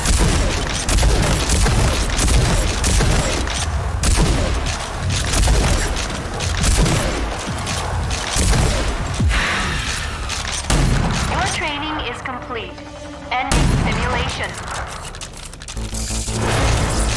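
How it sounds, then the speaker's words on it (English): A combat shotgun firing in overdrive in Rage 2 against simulated enemies: repeated heavy booming blasts in quick succession, loud and close, mixed with game effects and some speech. "Use the combat shotgun's overdrive against the simulated enemies."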